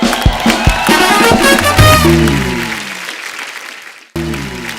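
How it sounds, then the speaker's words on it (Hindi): A studio audience on a comedy talk show applauds for poets, a loud burst of clapping mixed with a voice that swells and then fades away within about three seconds, followed by quiet and a brief new sound. "और जो हमारे असली शायर हैं उनके लिए दिल खोल के तालियां"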